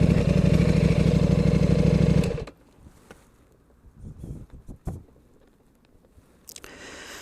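A KTM RC8 motorcycle engine idles loudly and steadily for about two seconds, then cuts off abruptly, leaving quiet background with scattered clicks and knocks.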